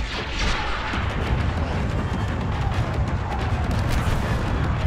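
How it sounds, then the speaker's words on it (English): Orbital barrage explosions rain down in the video game Star Wars Battlefront 2, a dense continuous roar of booms and blasts that stays loud and rumbling for the whole stretch. "Orbital barrage, here."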